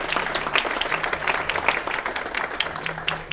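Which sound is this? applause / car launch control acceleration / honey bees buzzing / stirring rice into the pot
applause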